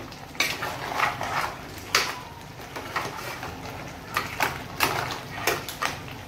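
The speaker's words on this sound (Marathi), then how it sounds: "आता पुन्हा एकदा आपण घाटा मारू, एकदा घाटा मारू" Crab (chimbori) masala stirred in a pan at home, a spoon repeatedly scraping and knocking against the metal in an irregular rhythm, close and moderately loud, with no one talking.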